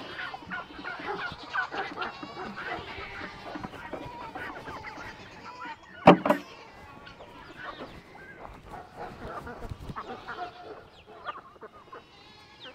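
Chickens clucking and squabbling around a feed trough near ducks, a busy scatter of bird calls with one sharp, loud squawk midway, faint farmyard noise beneath.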